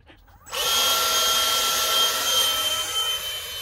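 A MiG 15 model aircraft's electric motor spins up sharply into a loud, high, steady whine at launch, holding a sustained buzzing tone with a faint drop toward the end.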